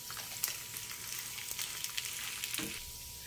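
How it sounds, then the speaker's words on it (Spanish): Onion and garlic cloves sautéing in a hot pan as the base for a fish a la talla sauce, a steady dense sizzle with crackling pops throughout and no talking. "sofreír la cebolla y los dientes de ajo"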